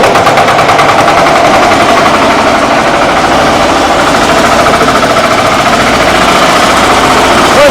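A loud, steady tractor engine chugs with a rapid rattling rhythm throughout, close by and unbroken, heavy and mechanical with no voices over it.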